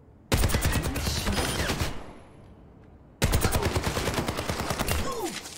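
Rapid automatic weapon fire at training bots in Overwatch 2, two loud sustained bursts of dense shots near the listener, the first about two seconds long and the second running to the end, with a short quiet gap between.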